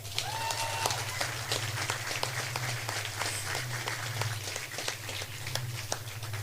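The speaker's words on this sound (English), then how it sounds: "give yourselves a big round of applause" Faint, distant applause from a crowd at a match between Colaiste Einde Galway and St Mary's Newport. Scattered claps patter steadily over a low constant hum for several seconds.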